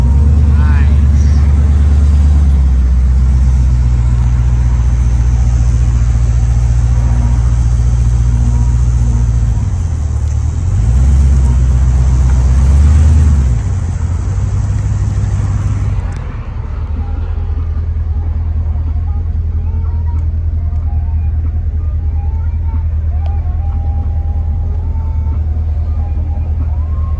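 Chevrolet Nova SS with an LS engine, styled after the F9 Fast & Furious car, idles with a deep steady rumble and revs up sharply a couple of times before settling back into a loud, even idle.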